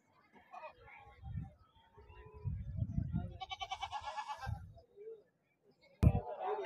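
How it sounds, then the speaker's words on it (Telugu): Goats bleat at a busy weekly livestock market in Bhadrachalam, several calls rising over steady crowd chatter and voices nearby. "మొత్తం మేకపోతులు వేసారు ఈ వారం."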